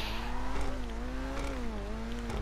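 Pegassi Taipan supercar in GTA 5 with a steady, loud engine drone and exhaust note, the pitch rising and falling slightly as the car accelerates, plus brief tire scrubs, heard alone.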